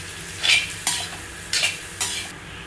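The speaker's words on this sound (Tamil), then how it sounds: "இதுக்கு மட்டும் கொஞ்சமாக எண்ணெய் ஊற்றி அதில் கொஞ்சம் பொரிச்சிட்டு போட்டுக்கலாம்." Cubes of elephant foot yam frying in a small amount of oil, with repeated bursts of stirring and sizzling that flare up and die back at a steady rhythm, close and clear with no voices.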